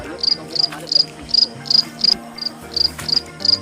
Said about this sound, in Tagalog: naririnig na po namin yung mga palakang bukid